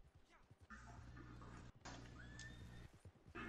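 A horse in Red Dead Redemption 2 whinnies loudly with a rising, shaky neigh over hoof clip-clops and a low game rumble, while people talk over it.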